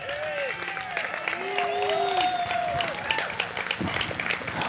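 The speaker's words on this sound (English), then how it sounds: "Everybody give Harry another round of applause" Crowd applause at a patriot rally in Southwest Wisconsin, a steady wash of clapping with whistles and cheers rising over it for several seconds, voices mixed in.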